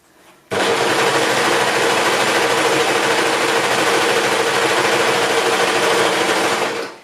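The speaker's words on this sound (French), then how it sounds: "si vous le faites à la surjeteuse, vous en profitez pour égaliser les bords" A serger (overlock machine) stitches and trims the selvedge from a fluid fabric, starting abruptly and whirring continuously at steady high speed, loud and close, then stopping near the end.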